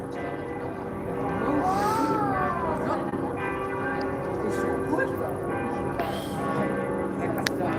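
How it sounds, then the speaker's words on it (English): Bells from two or more churches ring over city rooftops at night in central Europe, a continuous layered peal heard from a distance as a voice talks over it. "the bells from the churches are ringing"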